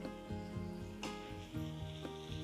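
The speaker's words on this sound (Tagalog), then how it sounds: "Cooking our vegetables, very nice, mixed together" Cabbage and shrimp stir-frying in a pan give a soft, close sizzle, punctuated by a few sharp scraping and tossing clicks of stirring at a steady rhythm, quiet and without any voices.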